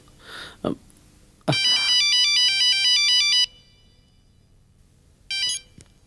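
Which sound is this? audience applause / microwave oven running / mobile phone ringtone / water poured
mobile phone ringtone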